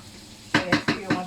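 Paella with peas cooks in a pan as a utensil scrapes through it in five quick, evenly spaced strokes over a low sizzle.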